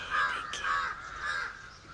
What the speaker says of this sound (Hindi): कौवे बोल रहे हैं, कौवे।